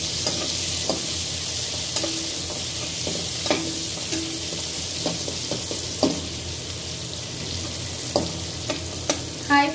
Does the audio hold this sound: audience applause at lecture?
no